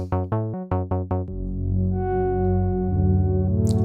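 A few short stabbed synth notes from the Audio Damage AD-202 plugin, modeled on the Roland MC-202, give way to a sustained, warm electronic pad chord that swells and shifts in tone, with no talking.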